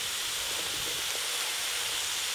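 Cabbage hitting hot oil in a pan, a dense, steady hiss of sizzling up close that fills the short moment without pause.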